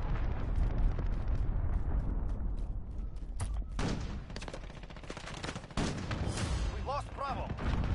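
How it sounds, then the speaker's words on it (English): Cruise missile strikes in the video game Modern Warfare: heavy booming explosions and rolling rumble mixed with scattered gunfire, loud and continuous, with a sharp blast near the middle and game chatter in the background. "Allied cruise missile launched"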